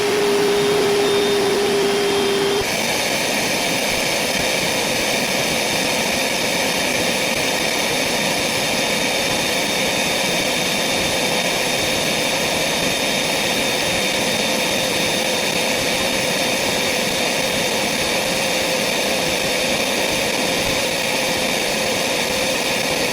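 A Milwaukee M12 0960-21 1.6-gallon cordless wet/dry vacuum runs at a steady, loud, even whine and rush of air for the whole stretch, with a short change in tone near the start and no talking.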